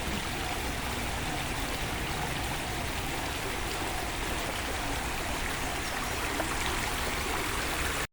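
Floodwater from an overflowing lake in Kudligi surges into houses in town, a loud, unbroken rushing and splashing that holds steady throughout.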